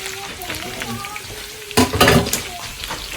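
Chopped onions sizzle and crackle in a hot pan while dinuguan, a Filipino pork blood stew, is prepared in Ilokano style, with a louder burst of frying partway through under a steady hiss.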